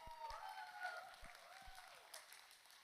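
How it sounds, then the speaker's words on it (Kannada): Audience applause at a stage play, a children's Panchatantra production at a Sankranthi event, rising as a steady wash of many clapping hands with a few distinct near claps and a light murmur of voices underneath. "ಚಪ್ಪಾಳೆ."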